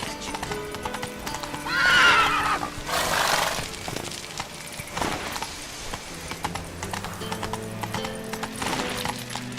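Galloping horse in The Witcher 3 with steady clip-clop hoofbeats, a loud whinny near the two-second mark, and game music and ambience underneath.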